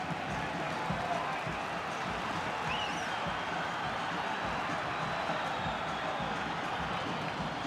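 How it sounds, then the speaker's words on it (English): Soccer stadium crowd at the U.S. Open Cup final between Inter Miami and Houston Dynamo, a loud, steady roar of cheering fans with no pauses. "Crowd here louder than any coach could be, trying to will this team forward past the hour mark."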